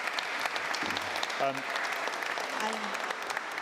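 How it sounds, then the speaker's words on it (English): Steady applause from an audience at a co-operative congress panel fills the clip, with a few people talking briefly underneath the clapping. "quick round of applause for panel"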